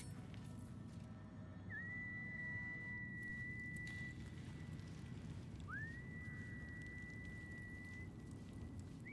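A character whistles in the video game Baldur's Gate 3: two long, steady, rising whistle notes over a constant rain-like hiss, heard alone without talk.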